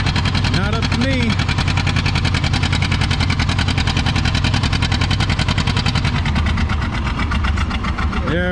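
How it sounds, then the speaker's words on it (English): A big John Deere tractor roars through a tractor pull with a heavy, steady drone that pulses rapidly throughout, loud and close, while a voice speaks over it. "Big John Deere stops at 193 feet."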